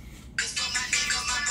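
A phone ringtone rings loudly and repeatedly in bright pulsing bursts, starting abruptly after a brief quiet moment, with no talking over it.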